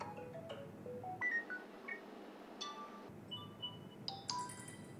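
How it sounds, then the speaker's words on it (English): Samsung Galaxy S21 text notification sounds play one after another: short, fairly quiet chimes and beeps with brief pauses between them, heard alone without talk. "from here you can select any notification sound that you want"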